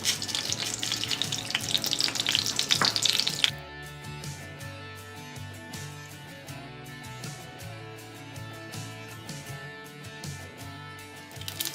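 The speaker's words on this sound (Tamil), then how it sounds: "இப்போ கடுகு நல்லா பொரிஞ்சிருச்சு." Mustard seeds crackle and splutter in hot oil with dried red chillies, a loud burst of popping sizzle that drops to a quieter simmer with scattered pops.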